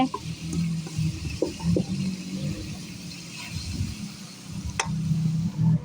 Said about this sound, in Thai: อันนี้ผัด ผัดพริกไทย น้ำมันหอย หมูสามชั้น